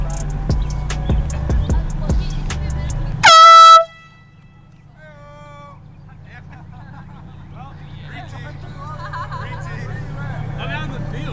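A loud air horn blasts once for about half a second at disc golfers on a course, preceded by bouncing and chatter and followed by people talking and laughing.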